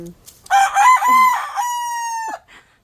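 A backyard chicken lets out a single drawn-out, crow-like call that rises and then holds steady before cutting off, loud and close, with faint rustling around it.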